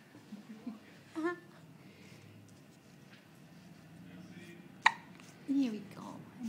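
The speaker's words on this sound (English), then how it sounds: "Here we go. Another hiccup." Newborn baby hiccuping, with a few short soft hiccups spaced seconds apart and one sharper one near the middle, close by, while an adult talks softly over it.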